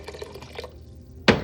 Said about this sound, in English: so we have some water boiled. I just add that